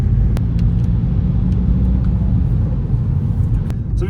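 A Volkswagen MK5 Golf converted to an ASZ/ARL diesel engine cruises smoothly along a road, its steady low engine and road rumble continuous and close throughout.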